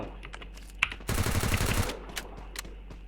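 UMP submachine gun fire in the mobile shooter Free Fire Max: a single short burst of rapid automatic shots, loud and close, with a few isolated clicks before and after.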